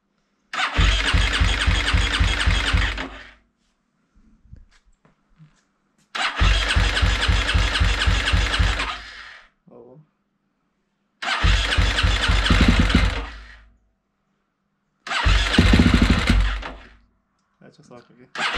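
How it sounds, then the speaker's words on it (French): A KTM 250 SX-F four-stroke motorcycle engine, freshly rebuilt with a new piston and timing, cranked by its electric starter in four separate bursts of about three seconds each with quiet gaps, close and loud, without firing. "Je fais quelques coups de démarrage pour faire tourner le moteur."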